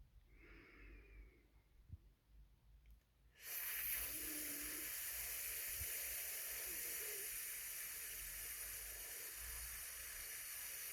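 A long, slow breath pushed out through the teeth on an S sound, a steady even hiss that holds for about seven seconds after a quieter stretch, close and alone.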